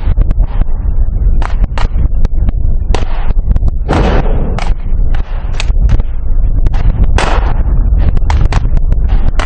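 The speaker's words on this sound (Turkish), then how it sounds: "sis ve el bombalarıyla otomatik tüfek atışları eşliğinde seri şekilde binayı" Rapid automatic rifle fire and grenade blasts during a special forces raid on a building, a loud, dense barrage of sharp close cracks and bursts with almost no pause.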